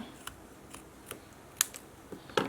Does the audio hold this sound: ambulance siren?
no